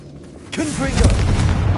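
A Confringo blast from a Harry Potter video game: a brief voice comes first, then a deep, sustained booming rumble that rolls on loudly to the end.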